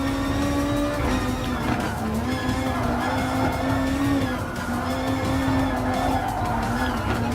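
Race cars in Gran Turismo Sport, including a Lexus and a Toyota Supra, drone steadily with a continuous engine whine shifting in pitch as they race, loud and sustained throughout.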